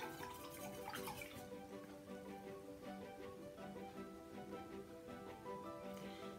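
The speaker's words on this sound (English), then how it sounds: "And I'll rinse my brush off." Paintbrush being rinsed in water, a steady close sloshing and swishing that continues throughout.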